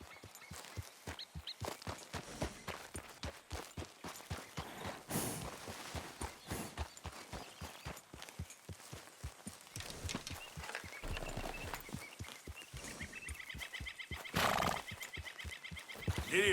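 A horse gallops in steady, rapid clip-clop hoofbeats through a Red Dead Redemption game scene, neighing and whinnying loudly at intervals as the quick rhythm keeps going.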